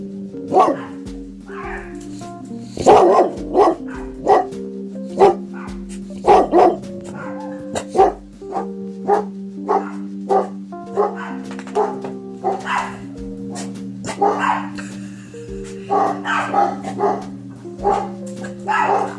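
A dog barks repeatedly in short bursts, some sharp yips and whimpers mixed in, close and loud over a steady low hum.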